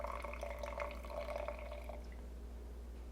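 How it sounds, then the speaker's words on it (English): Water trickles and drips into a jar of dried sourdough starter for about two seconds, a close, bright pouring sound that then stops, leaving quiet room tone. "I'm gonna add 75 grams of water"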